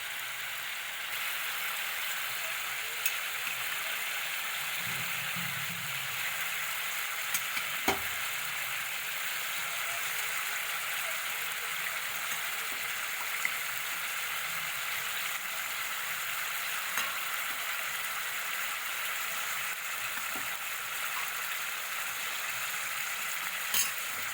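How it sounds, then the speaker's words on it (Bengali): Potatoes and cauliflower stir-fry in a spice masala, producing a steady close sizzle with faint scraping stirs throughout, no voices. "আলু আর ফুলকপিগুলোকে এই মশলার সঙ্গেই একটু সময় ধরে কষিয়ে নেব"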